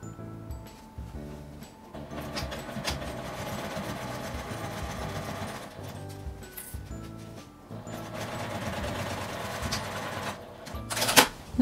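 A sewing machine stitching a canvas tote bag, loud rapid mechanical whirring in two long runs with short pauses between them and a sharp click at the end.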